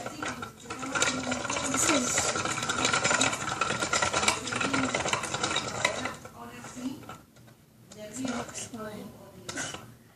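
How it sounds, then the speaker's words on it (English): Plastic spinner dial on a toy slime making station turned back and forth, giving a steady grinding, clattering whir with ratcheting clicks for about six seconds, then quieter intermittent turns near the end. "Grab the spinner dial and start spinning forwards and backwards."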